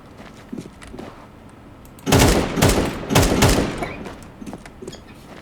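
Two loud bursts of rapid gunfire in the video game Counter-Strike 2, in quick succession, close and harsh, with quieter scattered clicks and shots before and after.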